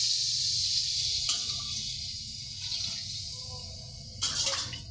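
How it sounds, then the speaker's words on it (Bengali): Water pours into a pan of fried fish and cooked-down spice paste for a curry, a steady splashing gush with a few sharper bursts, close and continuous, with no talk. "পানি দিয়ে দিলাম।"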